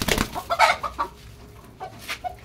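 A chicken clucks nearby in short, uneven bursts, a few soft throaty clucks with quiet gaps between them.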